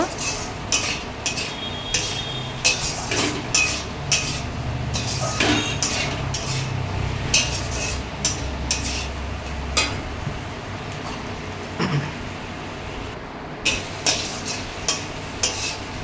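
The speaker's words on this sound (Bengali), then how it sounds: "এবারে আলুগুলো দিয়ে নেড়ে চেড়ে নেব" Potatoes are stirred into a thick spiced masala in a pan for a fish curry. A spoon repeatedly scrapes and clinks against the pan in an irregular rhythm over a low, steady sizzle, close and fairly loud throughout.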